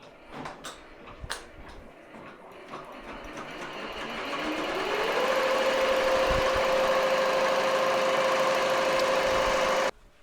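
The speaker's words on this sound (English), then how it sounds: "it's going to go ahead and stitch out the placement stitch first" An embroidery machine stitches a placement outline onto a shirt, starting with a few clicks, then ramping up into a steady, close, rapid mechanical whir that cuts off abruptly near the end.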